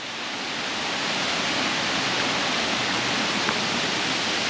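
Nohkalikai waterfall in Meghalaya, a dense, steady rushing roar of falling water heard from a distance, constant throughout with no voices.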